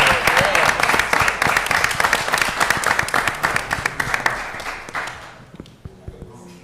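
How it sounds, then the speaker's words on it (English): A crowd at a city commission meeting applauds loudly and continuously, dense clapping that tapers off near the end with a few scattered claps. "give them another round of applause?"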